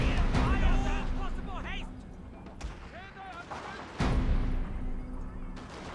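Musket volley fire from kneeling infantry in Shogun 2: Fall of the Samurai, a few sharp cracks over a busy battle bed with someone talking throughout.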